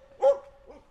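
A visiting dog gives a single short bark, close and moderately loud, with a faint follow-up sound after it and no talking.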